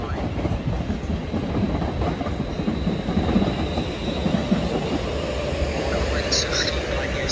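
A train rolls through Harrow and Wealdstone station with a steady rumble and rail clatter filling the whole stretch. A faint wheel squeal rises near the end, and a voice is just audible under the noise.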